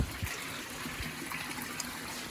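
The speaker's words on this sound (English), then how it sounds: "any of the water that's coming out of those 2 spouts right now is just bypassing the filter" Water from two overflow spouts of an above-ground koi pond pours steadily into the pond, a continuous, moderately quiet trickling splash with no voices.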